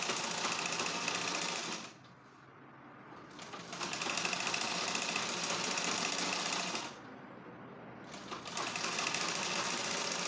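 A sewing machine runs in long steady bursts while stitching skirt pieces together at a half-inch seam, a loud continuous rattling whir with a brief slowdown between runs.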